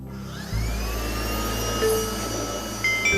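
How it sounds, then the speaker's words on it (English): A household vacuum cleaner starts up and runs with a loud, steady motor drone and a deep rumbling hum, and a whining tone rises gently over it. "Vacuum cleaner."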